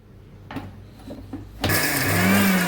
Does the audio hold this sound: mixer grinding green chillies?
yes